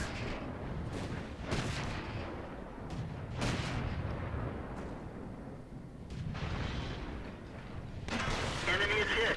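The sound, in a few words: artillery shot from AMX 13 F3 in World of Tanks video game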